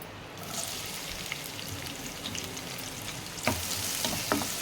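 Onions frying in hot oil for chole make a loud, continuous crackling sizzle up close, with stirring scrapes and a few sharp pops toward the end, no voices.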